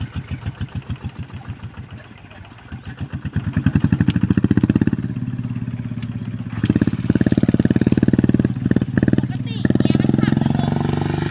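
A ZT 155 vehicle's engine chugs with a rapid, steady thumping pulse, close and loud, dropping to a slower beat then rising again as it coasts and rolls on, with someone talking over it.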